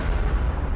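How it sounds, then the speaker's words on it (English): A spaceship blows apart in the space game Zero Point, a heavy low rumbling blast that fills the moment, loud and booming with no voice over it. "Their ship breaks apart with a powerful explosion."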